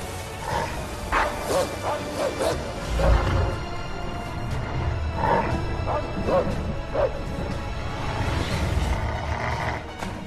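Wolves growl and yelp in Assassin's Creed gameplay, several short canine snarls and whimpers rising over a steady game background with a low rumble, fairly close and moderately loud.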